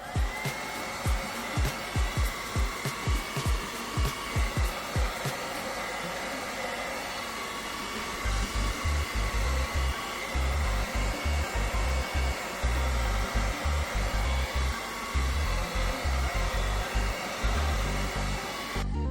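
Hair dryer drying paint on a fishing lure, a steady close whooshing blow with a series of rhythmic thumps at the start and choppy low pulses later.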